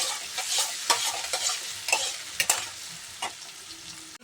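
Potatoes fry to a reddish brown in a pan and are stirred, a close crackling sizzle punctuated by quick scraping stirs and clinks, alone without speech.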